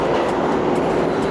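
A New York subway B train, an R68 or similar car, rolls past at Atlantic Avenue–Barclays Center station as a steady, loud, continuous rumble with a broad roar throughout and no clear individual clacks.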